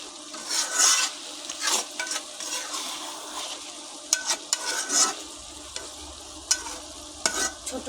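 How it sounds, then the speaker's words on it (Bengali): A spoon stirs a small fish and potato curry in a pan, giving repeated close scraping and rasping strokes over a soft sizzle, each stroke a separate burst. "মাছগুলো আবার আমি ভালো করে নেড়ে দিলাম এখন দেখুন জল অনেকটা শুকিয়ে গেছে"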